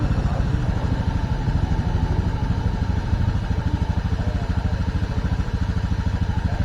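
A Honda Scoopy PGM-Fi scooter engine idles close by after its weak ignition coil is swapped for a Beat Fi K25 coil, a steady rapid pulsing putter with even rhythm throughout.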